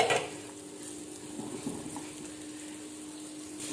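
Onions and masala are stirred in a pan for a samosa filling, with a faint, soft scraping and gentle sizzling close by and no talk over it.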